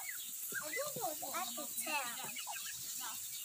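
Chickens cluck at a farmyard where ducks are being fed, a faint, busy patter of short calls mixed with children and adults talking nearby.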